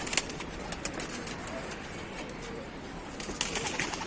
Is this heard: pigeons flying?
yes